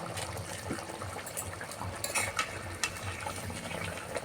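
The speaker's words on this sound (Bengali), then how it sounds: "টকবাক করে ফুটি দিচ্ছে" Cabbage dumpling curry boiling in a pot, a steady low bubbling and watery churn with occasional soft pops and a brief utensil clink, close by with no talk.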